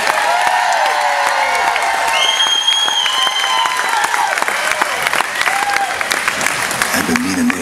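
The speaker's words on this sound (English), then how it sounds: "Let's give him a big round of applause." A festival crowd in Lake George, New York, applauds and cheers a performer, loud and close, with sustained clapping throughout while a voice talks over it and musical tones ring in the background.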